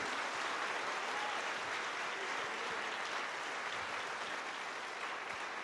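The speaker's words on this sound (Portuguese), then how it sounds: "Vamos aplaudir a Ele." A church congregation applauding during a sermon, an even wash of clapping that is dense but quite faint and distant, continuing without pause.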